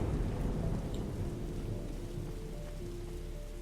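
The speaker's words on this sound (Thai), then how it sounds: "ฝนตกฝนตกฝนตก" Steady rain hissing with low, rumbling thunder in the Roblox horror game The Skinwalker, a dense continuous wash that fades slightly over a few seconds, with no talk.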